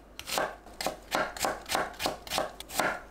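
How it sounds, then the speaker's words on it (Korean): A kitchen knife slices an onion into thin strips on a cutting board for spring water kimchi, giving about seven steady, evenly spaced, close cuts. "양파를 채 썰어 준비합니다."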